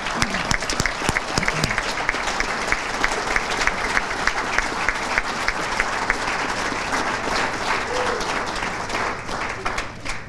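Sustained applause from a seated crowd at a school athletic Hall of Fame ceremony, honoring former inductees; dense, steady clapping that stays full for about ten seconds before tapering slightly.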